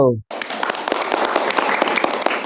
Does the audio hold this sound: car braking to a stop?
no